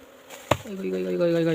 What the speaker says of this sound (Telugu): ఇక్కడ ఈగలు మొత్తం తెగబడుతున్నాయి చూడండి.